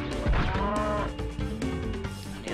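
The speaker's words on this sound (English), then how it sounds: "So those were cows, I think, though." Cows mooing in the Spyro Year of the Dragon video game, a few drawn-out low moos overlapping over a busy game soundtrack, fairly loud and close.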